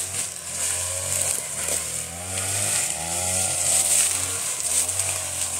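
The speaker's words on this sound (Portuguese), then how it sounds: "Porque a roçadeira é muito melhor, né?" A brush cutter clears water hyacinth in a banana plantation, its small two-stroke engine whining steadily nearby with slight rises and dips in pitch as it cuts.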